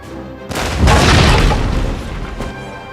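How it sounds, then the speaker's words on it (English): A deep, booming cannon blast with a rumbling tail, followed by a fainter second thud; loud and close, artillery fire in the ground battle game Total War: Napoleon. "Keep up the pressure by firing your cannons at the enemy."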